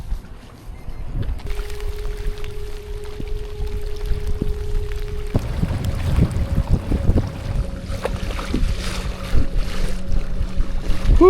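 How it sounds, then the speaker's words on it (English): Wind buffets across a lake during a bass-fishing boat outing, a steady low rumble of gusts on the microphone beneath a faint, constant motor-like hum. "I am wet and that wind is making it cold."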